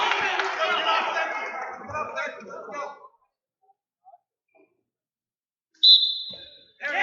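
A referee's whistle starts a high school wrestling bout, one sharp shrill blast cutting in after crowd noise and commentary fall away to near silence.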